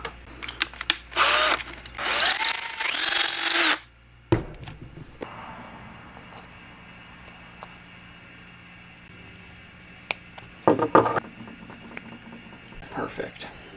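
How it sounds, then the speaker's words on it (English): Power drill boring a lead hole into a crankbait fishing lure: a short whir followed by a loud sustained drilling burst of about two seconds that stops abruptly, then scattered quiet handling clicks. "let's drill the lead hole."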